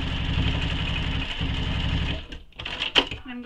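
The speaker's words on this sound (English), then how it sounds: "So I'm going to back stitch a couple times." A sewing machine stitches back and forth on a sling pack project, a fast steady mechanical whir that pauses and restarts in short bursts at close range.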